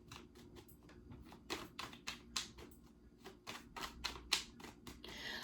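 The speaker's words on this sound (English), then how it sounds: "I am going to keep shuffling." Tarot cards being shuffled up close produce a quick series of crisp riffling taps and flicks, irregular bursts across several seconds, fairly quiet with no speech.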